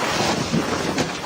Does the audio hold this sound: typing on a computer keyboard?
no